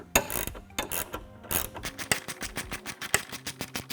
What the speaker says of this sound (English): So now we can take a 10mm socket on this ratchet with an extension and loosen up that first bolt.